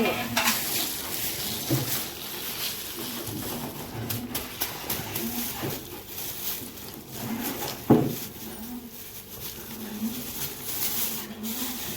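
A spoon repeatedly scrapes and tosses chevda, a dry snack mix, around a pan, with light sizzling and occasional louder clanks against the metal.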